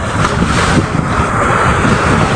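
A strong northeast monsoon wind with rough sea waves about five feet high: a loud, unbroken roar of gusts buffeting the microphone over crashing surf, with no voices.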